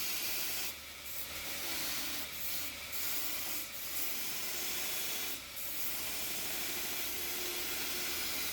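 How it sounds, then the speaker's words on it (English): Steady close-up scratchy rasp of hand sanding a knife blade made from a bandsaw blade, a continuous abrasive hiss with a few brief pauses as the stroke changes, no talking. "I just hand sanded it afterwards"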